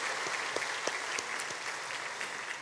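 A church congregation applauds during a combined Sunday service, a steady wash of many hands clapping at moderate distance with scattered sharper claps and no talking.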